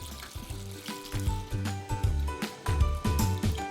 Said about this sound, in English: Using a saucepan, combine achiote and Baguio pure coconut oil. Let it simmer gently until the oil turns beautifully red.